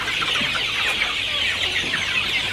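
A flock of native country chickens on a Batticaloa farm clucks steadily, a soft busy chatter that runs without a break and has no voices over it.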